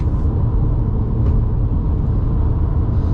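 A 2013 BMW 5 Series with around 180,000 miles accelerates to overtake, a steady low engine and road rumble heard from inside the cabin, continuous and fairly loud with no talking.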